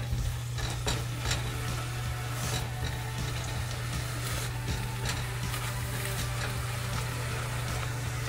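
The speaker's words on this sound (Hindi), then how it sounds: "और हम इसको अब मिक्स कर लेंगे।" Singaporean rice being stirred in a pan after Chinese salt and chili flakes go in, a steady scraping stir over a constant low hum, fairly faint with no voices.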